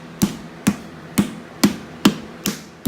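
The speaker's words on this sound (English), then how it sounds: "took my little rubber mallet, started giving it some love taps" Rubber mallet tapping an engine onto its dowels during 2004 Nissan Maxima HR engine swap prep: seven evenly spaced, dull, moderate knocks about half a second apart, with no talking.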